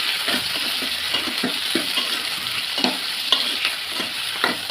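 Onions, tomatoes and green chillies fry in a pan for a fish curry, giving a steady close sizzle broken by a spatula's scraping strokes every half second or so, with no voices.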